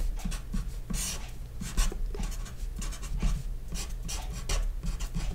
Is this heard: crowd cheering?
no